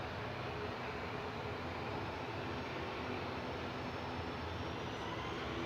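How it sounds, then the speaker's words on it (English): Ryanair plane departing Manchester Airport for Berlin: a steady, faint, distant jet roar that holds evenly throughout with no other sounds. "Ryanair departing to Berlin, nach Berlin, flight 1145"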